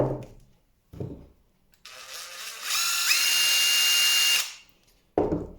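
Stanley Fatmax V20 brushless drill whirring up to a loud, steady high-pitched whine for a couple of seconds before spinning down, bracketed by clicks and handling knocks before and after.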